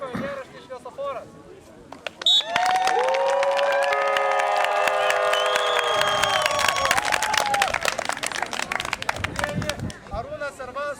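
After a short whistle, an audience at the KM "Perkūnas" Daugai 2011 summer camp bursts into loud, sustained applause and cheering for a children's team, with crowd chatter mixed in before it fades.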